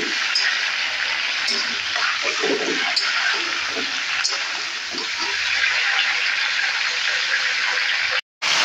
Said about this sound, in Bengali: এখন আমি নেড়ে নেব।